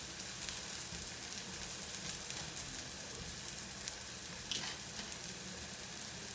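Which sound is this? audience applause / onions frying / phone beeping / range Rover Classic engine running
onions frying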